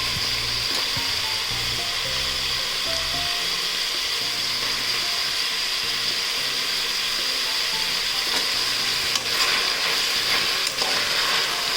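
Potato and brinjal pieces go into a pan of frying sambar base, a soft continuous sizzle with occasional clinks and scrapes of a utensil, quiet and close.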